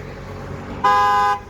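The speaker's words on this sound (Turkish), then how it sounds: "Alarm bu şekilde orijinal alarm devreye giriyor." A single short, bright horn chirp from a 2013 Ford Focus's alarm when locking sounds over a low engine hum, lasting about half a second.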